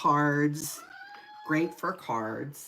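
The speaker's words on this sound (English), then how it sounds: "That's my cat. He's got the babyest meow." A male cat gives a short, thin, high-pitched, baby-like meow between stretches of a person's talk during a papercraft kit unboxing.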